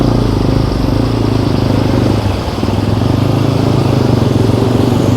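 A TVS MAX 125 custom scrambler motorcycle engine running while riding, a loud continuous close drone with a steady pulsing rumble and a brief dip midway, no talk.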